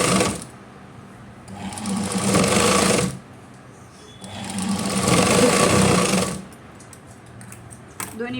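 Sewing machine stitching a blouse cup, running in two sustained bursts of rapid mechanical whirring separated by short pauses, close and fairly loud with no talk.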